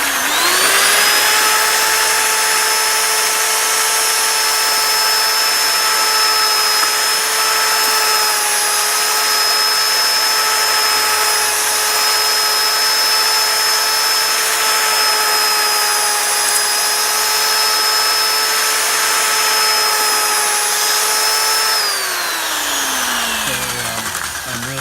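A Berg paddle mixer runs continuously for about 22 seconds, mixing dry mortar on a roofing job. The motor whine holds steady and loud, then winds down at the end. No talk is heard.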